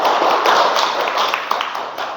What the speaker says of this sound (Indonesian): Kita beri tepuk tangan untuk kita semua dulu dalam ice breaking.